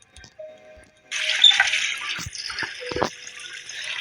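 Water gushing from a tap into a bucket in the horror escape video game Metel Horror Escape, a steady rushing fill lasting about three seconds after a short quiet start, with a few faint clicks and knocks.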